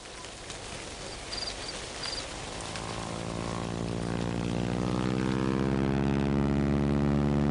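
A crop-spraying propeller airplane over locust-infested fields, its engine drone rising from distant to loud and near as it approaches, the buzzing pitch climbing steadily until it fills the scene.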